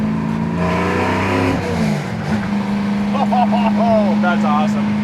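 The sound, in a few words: 1969 Chevy Camaro engine accelerating through gears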